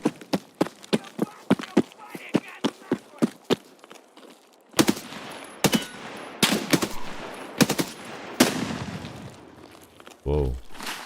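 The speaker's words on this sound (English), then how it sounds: "Is that a shotgun? Wow. Love the rate of fire." Rapid shotgun fire in the video game Escape From Tarkov: a steady run of sharp, evenly spaced blasts, followed by denser, rougher gunfire mixed with clatter and movement noise.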